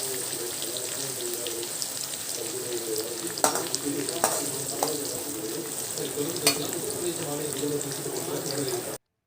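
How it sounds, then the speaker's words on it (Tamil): Onions frying in oil for a Hyderabadi chicken dum biryani, a loud continuous close sizzle with a few clinks and scrapes from stirring. "கொஞ்சம் வெங்காயம் ஆட் பண்ணிடுங்க. இதையும் நல்லா ஃப்ரை பண்ணுங்கள்."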